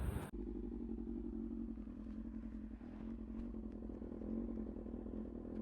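A Yamaha R6 sport motorcycle engine drones steadily while the bike is ridden, a loud continuous hum with a slight rise in pitch near the end, and no voices.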